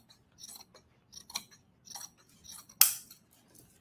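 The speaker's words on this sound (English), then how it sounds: "And now we're going to cut the inside. Cut this piece off." Scissors cut through fabric during an upcycling project, giving several soft, close snips and rustles, then one sharper final cut near the end.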